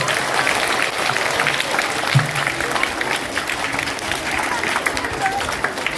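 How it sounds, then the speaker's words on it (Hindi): A crowd at a naat recitation competition applauds steadily and loudly for several seconds, with voices mixed into the clapping. "जोरदार तालियां आप लोगों की।"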